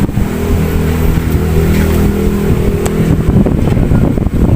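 American Home microwave oven set to high on 220 volts and not heating, giving a steady loud motor hum and rumble with a rattling buzz, close up and without talking.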